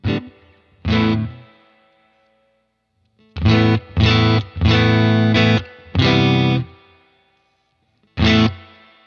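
A distorted electric guitar through a UAFX Dream '65 Reverb amp pedal on its lead setting with boost off plays loud chords in short bursts separated by silences, a few ringing out longer, with no voices.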